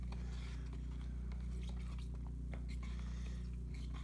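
A metal spatula stirs and presses plaster of paris against the side of a mixing container for mold casting, giving faint, scattered soft scrapes and wet squishy clicks over a steady low hum, with no talking.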